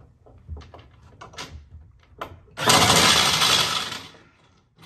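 A General Flexi Rooter 100 flexible shaft drain cleaner, its chain-fitted shaft stuck at a pipe elbow, follows light knocks and handling with a loud, rough mechanical whir lasting about a second and a half before winding down.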